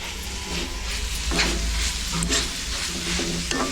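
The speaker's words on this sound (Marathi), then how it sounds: "सगळं असं भाजून घेते चांगलं दोन मिनटं तरी जातील भाजायला सगळं मिक्स करायचं व्यवस्थित" Bitter gourd and onions sizzle and roast in a pan while being stirred, a close, steady frying hiss broken by several scraping stirs of the spatula.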